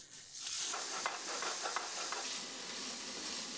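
Cooked ham browning with onion in a pan for papalina tagliatelle sauce: a steady, close sizzle that swells in after a quiet start, with light stirring scrapes and no talk.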